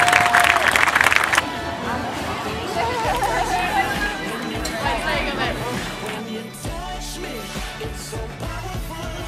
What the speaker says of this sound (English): A round of applause for all of the ladies of District 11A.